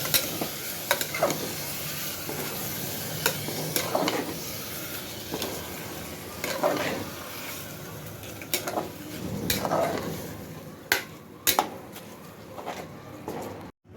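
A spoon scrapes and stirs through soaked Indrayani rice in a frying pan, steady scraping strokes with occasional clinks and a light sizzle underneath.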